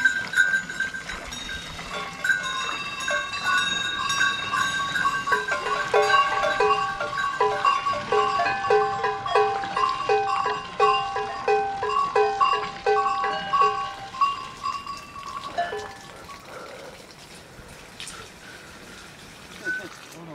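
Goats on a mountain alpine pasture with a rhythmic run of bells clanking steadily and fairly close, fading toward the end, while a voice narrates over it.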